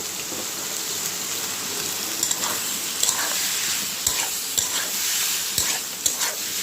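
Cut potato pieces frying in hot oil in a pan for a Bengali prawn and potato curry, a steady close sizzle with a few louder stirring scrapes and clacks of the spatula.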